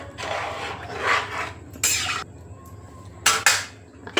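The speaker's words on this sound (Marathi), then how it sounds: "चवीनुसार मीठ टाकूया आणि व्यवस्थित आपण हलवून घेऊया" A spoon scrapes and clinks against a metal pot while chicken pulao is stirred after salt goes in, several short bursts of scraping with brief pauses between them, close and fairly loud.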